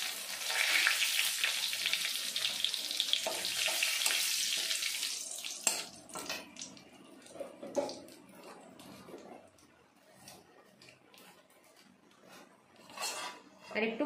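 Bay leaf, dried chilli and whole garam masala frying in oil: a bright sizzle that bursts strongly for about five seconds, then fades into scattered crackles and pan clatter, faint and close.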